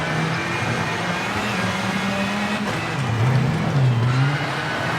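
A rally car in the racing game V-Rally 4 accelerating hard, its engine droning steadily and then rising into a louder, higher rev near the end, heard alone and up close.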